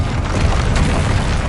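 A Confringo fire-blast spell goes off in the video game Hogwarts Legacy, a loud, sustained, rumbling explosion that fills the whole moment without pause.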